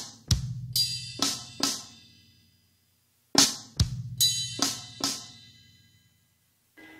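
Drummer plays a five-note linear sticking phrase across cymbal, snare and kick, crisp single hits in two short bursts separated by a pause, close and clear with no talking.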